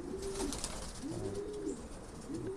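A pigeon in a racing pigeon loft coos in repeated low, rolling calls, close and clear over a steady background hum.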